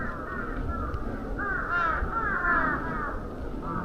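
Crows caw repeatedly at dusk along a quiet shrine path at Fushimi Inari in Kyoto, a few harsh calls at moderate distance over a steady background hush.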